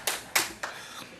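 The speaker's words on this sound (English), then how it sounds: "You can clap anytime you want," Only a few scattered, separate hand claps ring out from the audience at a swearing-in ceremony for the District Assemblies Common Fund Administrator, three or four sharp, close claps spaced roughly a third of a second apart.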